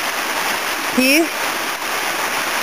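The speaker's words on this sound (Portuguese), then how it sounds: "Aos 10 metros já estamos na segunda cachoeira, a do Tajuva" The Tajuva waterfall in a canyon pours with a steady, broad rushing hiss, while a voice speaks briefly over it.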